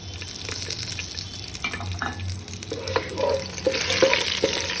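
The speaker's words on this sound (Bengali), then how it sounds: "ফোড়নটা একটু ভেজে নেব" Whole spices (small cardamom, dried red chilli, cinnamon, cloves and bay leaf) tempering in hot oil for bhuna khichuri, a steady sizzle with scraping stirring strokes that grow louder and busier toward the end.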